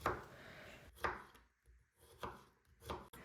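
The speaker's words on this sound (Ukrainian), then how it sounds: "Беру також свіжий огірок і так само нарізаю невеликими шматками." A knife chops through fresh cucumber on a board in a few crisp strokes with short gaps between them, close and fairly quiet, with no speech.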